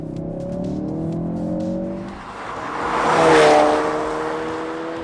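A 2016 Ford Focus RS with a 2.3-liter engine accelerates hard in second gear, its loud engine note rising in pitch, dipping briefly around a shift, then swelling again close by with no talking.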